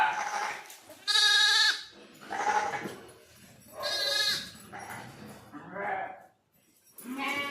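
Several loud, close lamb bleats in a row, a young sheep calling out repeatedly with short pauses between each cry, with no other sound between them.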